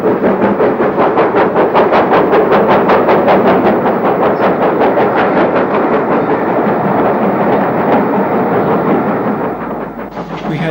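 A preserved steam locomotive on a heritage trip south out of Crumlin works hard and loud, with rapid rhythmic chuffing beats over a steady rolling roar of the train on the rails for most of the stretch, easing slightly near the end.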